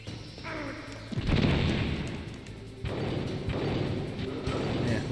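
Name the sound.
stun grenade exploding in a video game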